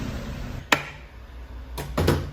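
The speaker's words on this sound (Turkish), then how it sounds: "Kafasına iki çekiç yiyince geçiyor arkadaşlar." Hammer blows on an automatic transmission during a car repair: one sharp knock, then a pair of quick metallic strikes close together, fairly loud and close, with no talk.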